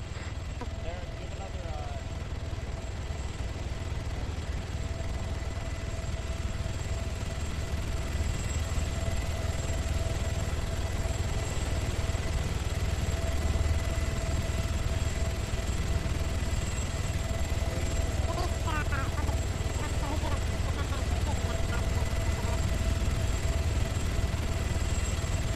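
Helicopter in the game Arma 3, a steady droning rotor and engine hum running continuously at moderate loudness, with voices talking over it throughout.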